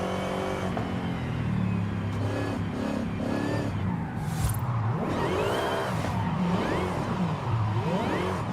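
A modified American muscle car in the Forza Horizon 5 racing game revs and drifts loudly, its engine note rising and falling with rising turbo whistles and brief tire squeal, no talk over it.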